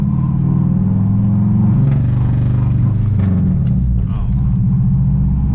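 A modified car engine in limp mode runs with a loud, close, uneven drone whose pitch wavers and dips, hinting at sputtering, with a brief spoken exclamation over it.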